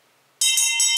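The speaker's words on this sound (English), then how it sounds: "So that's the Marie Lyle bell." The Marie Lyle bell at Bennett College strikes once with a bright, sustained metallic ring that begins abruptly from near silence and keeps sounding to the end.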